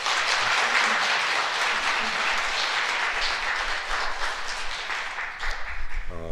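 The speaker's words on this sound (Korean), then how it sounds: "여러분 건강을 기원하면서 우리 격려의 박수 한번 보내주시죠" A church congregation bursts into warm applause during Mass, many hands clapping steadily and fairly loud for several seconds before tapering off as a voice begins to speak.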